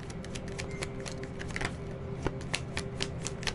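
Tarot cards are shuffled by hand, a quick run of crisp riffling flicks and soft taps close up, with no talk over them.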